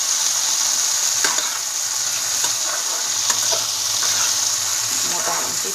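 Chopped onions and capsicum sizzle steadily in a hot pan, a loud continuous crackle near at hand with a few faint stirring clicks.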